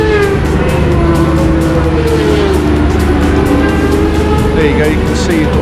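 Racing motorcycles roaring past on a scenic circuit, loud continuous engine whine with pitch sweeps as bikes pass close by, someone speaking over the din.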